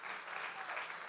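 Applause from an audience at a fashion show and auction, honoring the restaurant servers and staff of Dominic's Steakhouse and La Toretta; a brief, fairly faint, steady wash of clapping with no voices.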